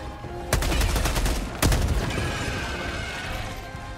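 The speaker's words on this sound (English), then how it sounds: "Grenade!" Explosions and gunfire in Helldivers 2: a sharp loud blast followed by a second heavy one about a second later, over a continuous clatter of rapid automatic shots, close and dense, with no speech.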